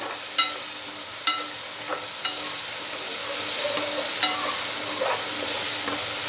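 Chillies tossed into a hot pan and stirred, giving a steady oil sizzle broken by several sharp clicks and scrapes of the spoon against the pan.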